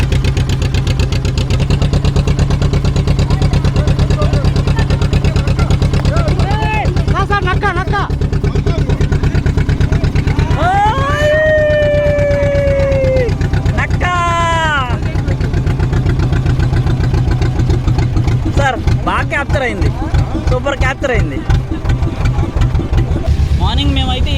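A motorboat engine drones steady and loud throughout on the sea near Avanigadda, Andhra Pradesh, with a few high, wavering tonal sounds rising briefly over it in the middle.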